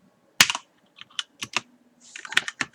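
Keys clatter on a computer keyboard in short bursts, a sharp first stroke followed by scattered clicks and a quicker run of typing near the end, close and otherwise quiet.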